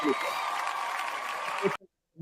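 Sustained applause from a crowd fills the space, a dense wash of clapping that cuts off abruptly, followed by a brief voice.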